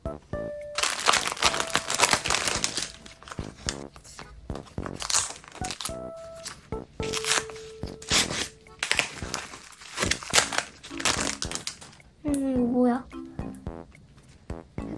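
Plastic packaging on an album crinkles and rustles loudly and almost continuously as it is handled and torn open, with a voice talking over parts of it.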